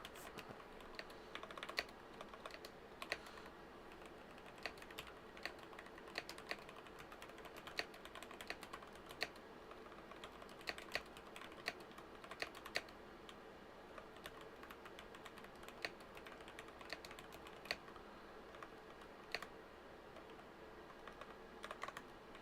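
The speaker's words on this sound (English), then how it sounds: "I'm not even typing right" Fast, steady typing on a computer keyboard: a dense stream of light clicking keystrokes, close and fairly quiet, continuing without pause and with no speech.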